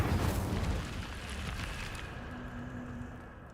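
An Incendio fire spell cast in a Harry Potter video game bursts with a loud whooshing roar at the start, then fades into a sustained rumbling crackle that tapers off.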